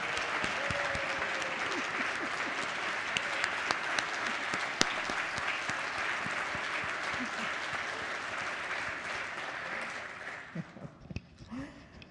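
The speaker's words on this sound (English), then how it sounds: "This is the time to clap." Applause fills a state House chamber after a bill passes, a steady wash of many hands clapping at moderate distance for about ten seconds before tapering off into a few scattered claps.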